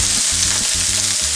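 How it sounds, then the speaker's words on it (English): Vegetables tossed into hot peanut oil in a deep frying pan sizzle loudly and steadily, with broadband hiss and rhythmic low bumps of stirring. "We'll just start frying that."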